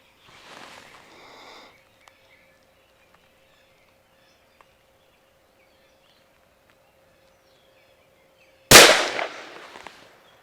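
A single sharp, loud gunshot from a Smith & Wesson M&P 22 Magnum pistol cracks near the end at an outdoor range, preceded by a soft rustle and near quiet.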